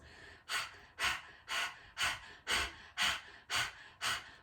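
Rapid rhythmic panting during a yoga session, about nine sharp forceful breaths at an even half-second pace, close and clear with no talk.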